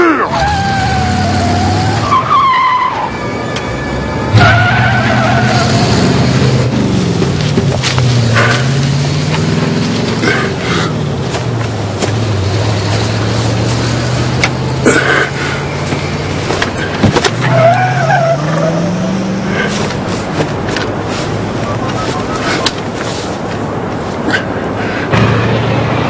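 A car drives off hard with tires squealing and skidding, loud and close, while engine roar and screams mix in with sustained street commotion throughout.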